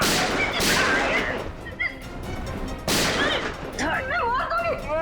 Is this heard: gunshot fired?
yes